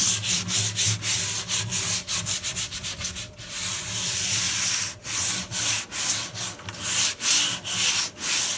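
Hand sanding of wooden furniture to give it a distressed, worn look, done indoors: rapid rhythmic scratchy strokes in quick bursts, then longer sweeping rubs, close and clear with no talking.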